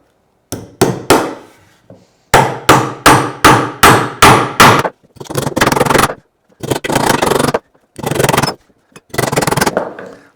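Hammer driving five steel nails into a block of wood, a rapid series of sharp, loud strikes in quick bursts, followed by longer scraping, grinding sounds, all close and without talk.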